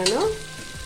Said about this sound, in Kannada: 1-2 ನಿಮಿಷ ಫ್ರೈ ಆಗಲಿ ಎಣ್ಣೆಯಲ್ಲಿ. ಈಗ ಬಟಾಣಿ ಫ್ರೈ ಆಗಿದೆ.